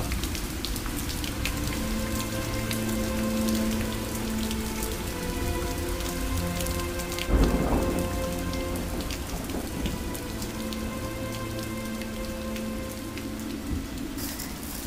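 Heavy rain pours steadily onto surfaces with a sharp thunder crack midway, set in a Pakistani drama scene, with a faint tonal hum running underneath.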